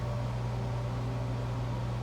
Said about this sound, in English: That's the sound of a fan running in the background.